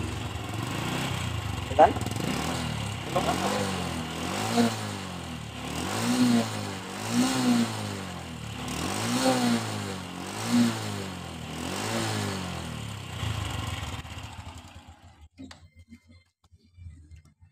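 Motorcycle with worn piston rings and thick white exhaust smoke, kick-started and revving close by in repeated rising and falling pulses, then cutting out and dying away; someone speaks briefly over the engine.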